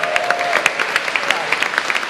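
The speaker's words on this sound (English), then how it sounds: "a big round of applause to Hilary" Concert audience at a Last Night of the Proms event in St Peter's, Parkstone applauds, with sharp, evenly paced claps popping out of a lively wash of clapping, close and energetic for about two seconds.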